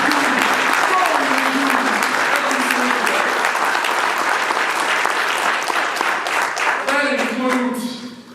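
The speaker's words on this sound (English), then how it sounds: "you need to give yourselves a round of applause for what you have" Dense, sustained clapping from a convention hall audience at a union council's special convention, with cheering voices rising over it before the ovation fades at the end.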